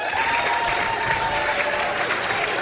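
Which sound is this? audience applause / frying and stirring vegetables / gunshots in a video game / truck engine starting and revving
audience applause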